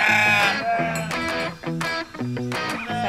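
A flock of sheep on a tropical farm bleats again and again, the calls close and overlapping in a steady run of loud cries.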